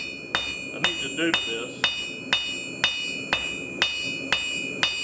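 Rebar being hammered into a hook shape for a fire poker, a steady series of about nine sharp, ringing metal strikes at regular intervals, close and loud, with a brief spoken remark partway through.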